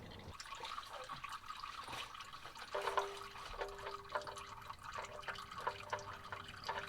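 Engine oil drains from the drain plug of a freshly rebuilt Cat 3406B diesel engine in a Peterbilt 359, a faint steady trickle and splatter of liquid into a pan with occasional drips, fairly quiet and without talk.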